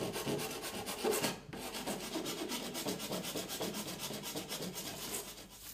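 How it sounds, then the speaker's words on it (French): A cut piece is filed down to fit a barrel, producing steady, close rasping strokes in a continuous back-and-forth rhythm with one brief pause. "Vous pouvez toujours limer quelque peu pour assurer une meilleure adhérence."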